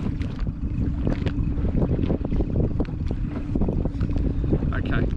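Gusty wind buffets an offshore fishing boat in worsening weather, a steady low rumble of microphone wind noise with scattered knocks and splashes, continuous and close.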